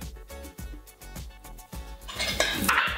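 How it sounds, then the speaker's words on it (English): Potatoes tossed with dried thyme and oregano in a dish while baked chips are being made, giving repeated scraping and clinking of a utensil against the dish, close and fairly quiet, with no voices. "All of that, a lovely stir."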